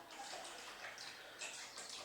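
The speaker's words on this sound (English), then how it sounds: "That's my dog drinking some water." A dog lapping water from a bowl, faint, quick wet slurps repeating close by in an otherwise quiet room.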